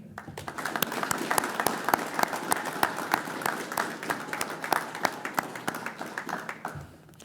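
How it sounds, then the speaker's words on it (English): Audience applause at a fire department pinning ceremony, a steady burst of many hands clapping with sharp individual claps standing out, filling the room before fading out near the end. "let's give a round of applause to all the family for all the sacrifices they made to help you get to where you're at today."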